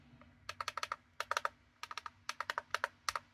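Clicky shoulder buttons on the back of a vertical Game Boy-style handheld console are pressed in quick bursts of sharp, close clicks, grouped in rapid runs with short pauses, no voices.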